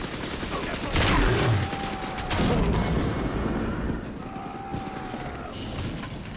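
Sustained machine gun fire from the video game Bioshock 2, a loud continuous torrent of rapid shots with booming impacts running throughout, under faint background game sounds.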